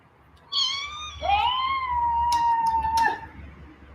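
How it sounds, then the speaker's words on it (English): A house cat gives a long, close meow that rises and then holds steady for about two and a half seconds, loud and clear, with no talking over it. "Up, here's my cat."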